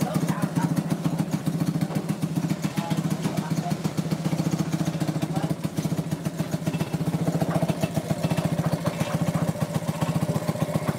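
A 1950 Honda P50 engine running after 30 years idles with a steady, rapid putter and faint clatter, close and continuous throughout.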